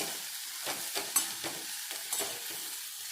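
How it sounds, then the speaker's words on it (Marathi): Brinjal curry being stirred in a pan, a spoon scraping and turning the vegetables in a few separate strokes over a soft sizzle, close and moderately quiet, no voices. "ही याला हलवून घ्यायचं आहे आपल्याला"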